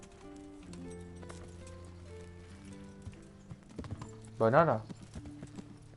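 Horse hooves clip-clop in the medieval video game Kingdom Come: Deliverance, light rhythmic steps under droning in-game music, with a brief louder horse whinny partway through and a short line of spoken Spanish.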